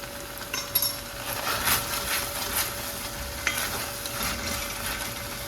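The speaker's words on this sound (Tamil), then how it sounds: "கூடவே 3 பச்சை மிளகா சேர்த்துட்டு இதை ஒரு 2 நிமிஷம் நல்லா வதக்கி விட்டுறேன்" Ginger garlic paste and green chilies sautéing in a pan for kadai prawns, a steady close sizzle under repeated scraping stirs and light metallic clinks of a spoon, no voices.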